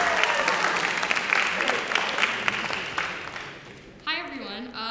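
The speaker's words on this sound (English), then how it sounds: "Quick round of applause for Danya" Audience applause for a student at a high school 10-minute plays event, a dense steady clapping crowd that fades over about four seconds before a voice begins speaking.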